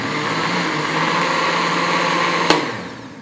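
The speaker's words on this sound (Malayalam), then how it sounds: "ഇതൊന്ന് ബീറ്റ് ചെയ്തെടുക്കാം" An electric mixer whirs steadily as it beats Irani pola batter of egg and sugar, a continuous close hum ending with a sharp knock near the finish.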